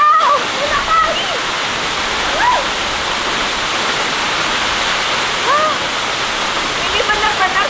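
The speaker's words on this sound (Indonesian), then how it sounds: "Ini benar-benar salah satu tempat favorit aku karena di belakang aku tuh air terjun." Jagasatru waterfall in Bali pours with a steady, loud, close rushing roar, while faint voices and brief whistle-like sounds surface now and then over the water.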